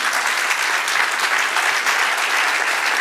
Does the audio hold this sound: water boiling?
no